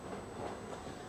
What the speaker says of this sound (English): I live by the train, so that noise you hear will be the train.